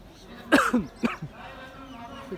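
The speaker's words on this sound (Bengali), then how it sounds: "কাশি হয়েছে" Two quick, sharp coughs close by, one right after the other, followed by a faint murmur in a quiet room inside the Sixty Dome Mosque in Bagerhat.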